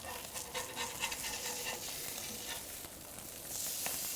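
Mackerel fillets sizzle on a griddle, a soft, even crackle close by with light scraping as a spatula works under them, fairly quiet throughout.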